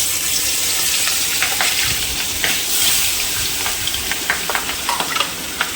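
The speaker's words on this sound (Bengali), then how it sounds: "তখন কাতলা মাছটা ভাজা হোক।" Marinated catla fish frying in hot oil gives a steady, close sizzle and crackle with small pops throughout, with no voices.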